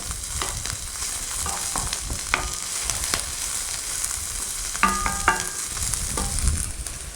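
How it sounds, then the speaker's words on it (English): Cabbage stir-frying in a wok sizzles continuously, broken by sharp metallic clinks and scrapes of a utensil stirring against the pan, close and clear with no voices. "I'll fry my cabbage off for about 1 to 2 minutes, just so it's not raw any longer."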